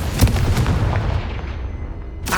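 A Confringo fire blast spell going off in Hogwarts Legacy, a dense roaring burst of booming, crackling energy filling the whole moment, loud and close, ending in a sharp flare.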